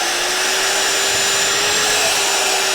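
A wire wheel spinning on a drill during a car restoration, a steady loud whirring drone with a constant high whine, running without pause and with no talking.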